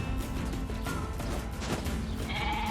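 Goats bleating in the video game NieR Replicant, several overlapping bleats over a dense, steady game soundscape with a brighter tonal cry near the end.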